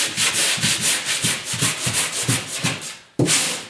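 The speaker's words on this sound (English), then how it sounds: "I'm a big fan of sanding the area that I'm going to be repairing" 80 grit sandpaper is rubbed over a drywall wall during a hole repair. About a dozen steady back-and-forth scratchy strokes sound close and loud, ending after a brief pause with one more stroke.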